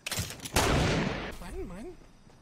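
Rapid video game gunfire rattles in a dense, close burst with overlapping shots that trail off, while a voice talks over it.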